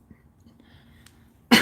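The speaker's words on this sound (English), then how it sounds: "I'm going to clear my throat" After a near-silent pause, one short, loud throat-clearing burst comes at the very end.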